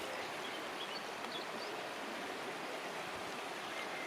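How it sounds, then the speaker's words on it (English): River Inn near Braunau am Inn flowing with a steady, even broadband rush of water, moderately quiet and unbroken, with no voices. "The river's flowing that way."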